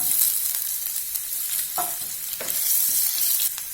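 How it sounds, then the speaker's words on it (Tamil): Sliced ginger sautéing with capsicum and boiled egg in a hot pan gives a loud, close, constant sizzle, with a few spatula scrapes and taps as the mixture is stirred. "இப்போ நீள வாக்கில் அரிஞ்ச ஒரு துண்டு இஞ்சி அதையும் சேர்த்து வதக்கலாம்"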